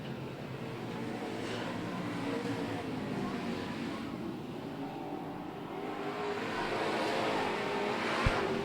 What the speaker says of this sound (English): we got cars on the track, racing around, street stocks.